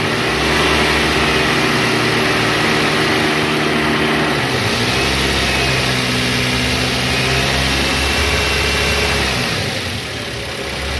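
A car engine is revved up from about 2000 rpm while under electrical load during an alternator and regulator charging test. A loud, steady mechanical drone shifts pitch partway through and settles again, with no talking.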